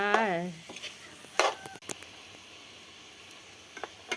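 River snails stir-fry with curry paste, coconut milk and shrimp paste, making a low simmering sizzle with occasional utensil clacks. It follows a short spoken phrase at the very start.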